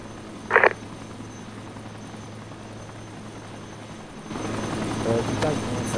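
In the video game ARMA 2, a helicopter's rotor produces a steady low drone that swells louder near the end. A brief voice cuts in early.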